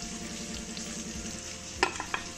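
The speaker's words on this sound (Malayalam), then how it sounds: "ഇനി നമുക്കിത് ഒരു പാത്രത്തിലേക്ക് മാറ്റിയിട്ട് ബാക്കിയുള്ള ചിക്കനും കൂടി ഫ്രൈ ചെയ്തെടുക്കാം." Chicken for biryani fries in a pan with a soft, steady sizzle, fairly quiet, followed by a few sharp metallic clinks from a utensil toward the end.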